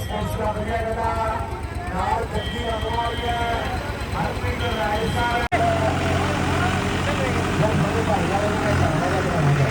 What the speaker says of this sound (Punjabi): ਟਰੈਕਟਰ ਨੀਲਾ ਫੀਟ ਆਪਣਾ ਹੱਕ ਦੀ ਮਿਹਨਤੀ ਹੋ ਰਹੀ ਆ